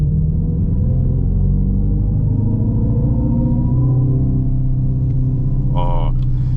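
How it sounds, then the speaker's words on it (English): The simulated exhaust of a 2024 Dodge Charger Daytona electric car drones deep and steady while driving, changing pitch gradually, with a brief voice breaking in near the end. "not exactly the nicest sounding exhaust, but it's better than the soulless sound of a simple electric car"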